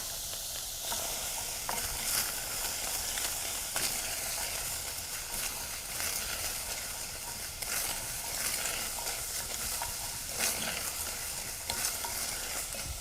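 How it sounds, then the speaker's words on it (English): Garlic added to a pan of cooking onion sizzles steadily while being stirred, a continuous close frying hiss with occasional scraping of the utensil. "I'm going to add some garlic to this"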